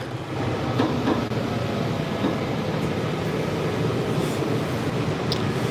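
A Silver Line metro train at its last stop gives a steady, even rumble with a broad rushing hiss, continuous throughout with no voices.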